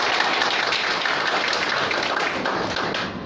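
Dense audience applause at a business presentation event, a continuous wash of many hands clapping at steady volume, tapering slightly at the very end, with no speech over it.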